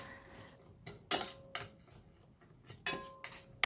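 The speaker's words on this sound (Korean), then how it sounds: "부추에 스리라차 소스 1스푼, 마요네즈 1스푼을 넣고 잘 비벼줍니다" Chopped chives being stirred with sriracha and mayonnaise in a bowl, giving a few sharp utensil clicks and knocks against the dish amid quieter scraping, with no talking.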